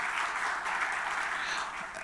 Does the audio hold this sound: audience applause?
yes